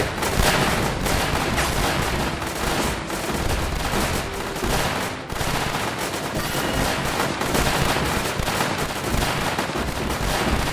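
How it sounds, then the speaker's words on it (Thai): Cannon units fire in the Northend Tower Defense game, a dense, continuous barrage of booming shots and explosions that stays loud throughout with no pauses. "ถัดไปหน่วยส้มปืนใหญ่"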